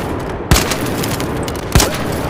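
Toro shotgun firing at a target dummy in a video game, two loud sharp blasts about a second apart over constant game ambience, close and without speech.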